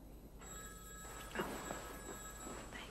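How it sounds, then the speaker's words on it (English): A telephone rings indoors, faint and distant, a steady electronic tone under quiet room noise, with a brief soft bump partway through. "Rebecca, there's a phone call for you"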